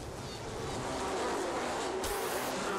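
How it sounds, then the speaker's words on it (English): Bees buzzing in the video game Mundaun, a steady, dense droning hum that stays close and fairly loud throughout, with a brief sharp burst near the end. "Annoying bees."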